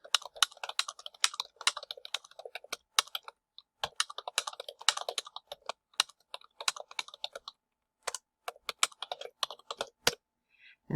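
Steady typing on a computer keyboard fills a Word text box, with quick runs of soft clicky keystrokes broken by short pauses, close and fairly quiet with no voices.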